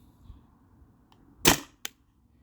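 A Tippmann TPX paintball marker on 12-gram CO2 fires a single sharp, close shot in a quiet setting, followed moments later by a brief lighter snap.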